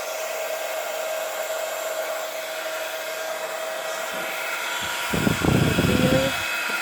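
Heat tool blowing hot air over embossing powder on a shaker card, a steady loud whine and rush of air, with a rougher, noisier burst near the end.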